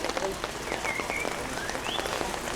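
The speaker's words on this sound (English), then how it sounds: "Rain gets heavier." Steady rain falls on an outdoor bowling green during a singles bowls competition, a dense continuous patter with brief squeaky tones and faint voices mixed in.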